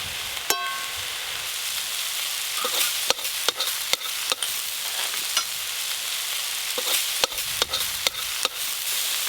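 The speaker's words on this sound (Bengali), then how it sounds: "একটু ভালো করে ভেজে নেবো এবার" Kalmi greens (water spinach) stir-fry in a pan, a steady sizzle broken by sharp scrapes and clacks of a spatula turning the leaves at an uneven rhythm, close and fairly loud, with no talking.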